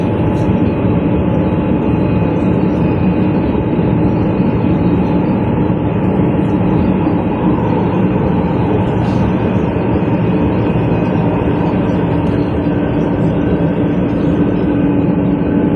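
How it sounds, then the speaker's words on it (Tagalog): Steady, loud rumble of a moving MRT metro train, heard from inside, with constant wheel and motor drone and faint squeals, continuous throughout, no talking. "Sumakay ng MRT."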